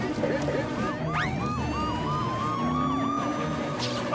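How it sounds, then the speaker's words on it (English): Police sirens wail in rising and falling sweeps over a busy cartoon soundtrack, layered and continuous, with a faint voice underneath. "You hear those sirens?"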